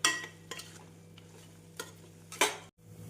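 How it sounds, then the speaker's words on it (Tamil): Mashed mango cooking with powdered jaggery over a medium flame is stirred in a few separate scraping strokes, close and moderately loud, with a low steady hum underneath and no talking. "வெல்லம் சேர்த்து மீடியம் ஃப்ளேமில் நன்றாக மிக்ஸ் செய்து விடலாம்."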